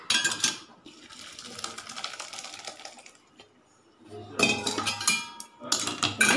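Pasta water pours and splashes from a pot into a sink as pasta is drained, with clattering metal and a pause before more splashing and clinks.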